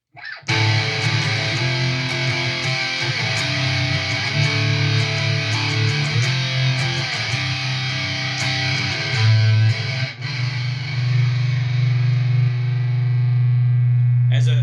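Guitar played over the fretboard with a warm, thick distorted tone: a sustained, full-bodied riff that rings steadily and loud throughout, with a low note droning underneath.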